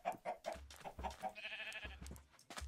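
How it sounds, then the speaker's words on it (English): Chickens cluck in the Minecraft video game, a run of short, quick in-game clucks on a farm, fairly quiet, with other animal bleats mixed in. "I breed chickens."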